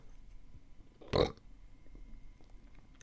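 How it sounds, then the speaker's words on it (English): A single short, loud burp bursts out about a second in, standing alone against quiet background noise. "You keep burping."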